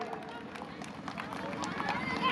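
An audience at a village education and elders' honour ceremony clapping in applause for mothers and sisters, a dense, steady patter of many hands close by.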